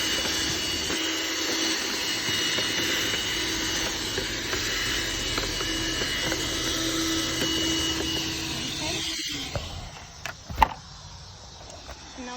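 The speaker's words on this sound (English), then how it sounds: "So just try to vacuum everything." A household vacuum cleaner running near a 2014 Hyundai Veloster's engine air filter housing, sucking out leaves, dust and sand with a steady whine that cuts off abruptly near the end, followed by faint clicks and a brief knock.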